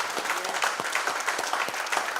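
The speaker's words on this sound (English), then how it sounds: "Let us applaud" Audience applause at a Christiana High School alumni reunion dinner and fundraiser, a steady wash of many hands clapping at moderate volume, continuous for about two seconds.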